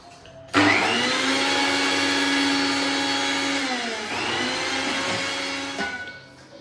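A kitchen mixer grinder blends ginger, garlic and green chili into paste, starting abruptly with a loud high whirring whine that holds steady, dips in pitch around the middle and then cuts off.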